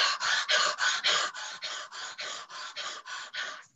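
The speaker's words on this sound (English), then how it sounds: "So deep, rapid breathing for 6 minutes." Deep, rapid breathing of the kind performed for an MVV maneuver during bronchial challenge testing, heard as about a dozen loud, regular breath cycles close to the listener with no talk.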